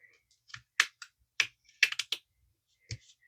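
Scissors trimming planner stickers in a quiet room, a handful of short crisp snips and clicks spaced irregularly, close and alone with no talk.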